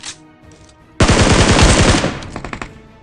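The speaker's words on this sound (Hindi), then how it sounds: "तो जैसे ही यहाँ पर इसकी पेटी बनाए तो यहाँ पर गोली चलने की आवाज आती है।" Rapid automatic gunfire in PUBG/BGMI on an iPad 9th Generation, one loud, close burst of dense shots lasting about a second, followed by a few quieter trailing shots.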